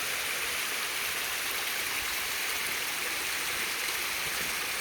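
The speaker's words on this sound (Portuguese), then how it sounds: "curtindo essa vibe aqui, essa cachoeira linda aqui" A waterfall in Tijuca Forest, Rio de Janeiro, pours in a steady, dense roar of rushing water, loud and close, with no breaks.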